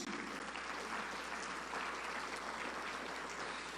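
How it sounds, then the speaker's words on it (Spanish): A church congregation claps together during a service, a continuous, fairly soft rain of applause heard from a slight distance, steady throughout with no voices on top. "Dale un fuerte aplauso al Señor Jesús."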